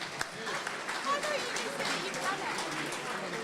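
A round of applause at a gala dinner, many hands clapping in a brisk, continuous patter, moderately close, with some voices among the clapping.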